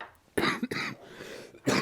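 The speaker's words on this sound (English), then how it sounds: "There's the coughs." Several close, harsh coughs come in quick bursts, with brief pauses between them.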